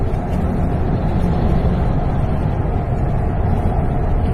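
Steady, continuous rumble of a car driving along a highway at night after a storm, engine and tyre noise unchanging throughout, with no talking.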